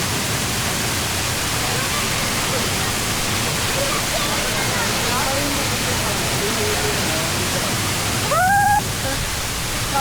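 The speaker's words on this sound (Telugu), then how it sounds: "మొత్తానికి వాటర్ ఫాల్స్ దగ్గరకు వచ్చేసాం." Steady broadband roar of a waterfall in Mussoorie, close and continuous throughout, with a brief high chirping sound near the end.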